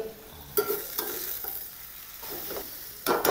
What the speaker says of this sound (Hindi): अब हमने कम से कम 4 से 5 मिनट तक करनी है भुनाई